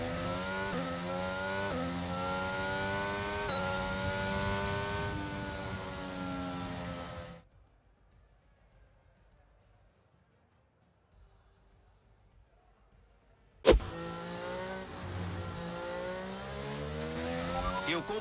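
A Formula 1 race car engine in the F1 2022 video game at the Japanese Grand Prix, a high-pitched whine climbing through revs for several seconds, then near silence, then a sharp burst back to full roar.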